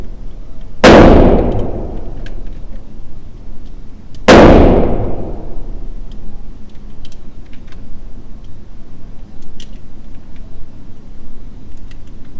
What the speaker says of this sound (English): Let's load up 5 rounds of 147 Federal. Let's see what it does.